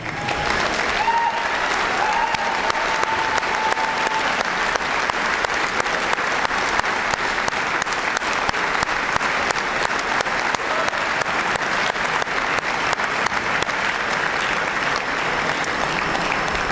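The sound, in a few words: arena crowd applause for former players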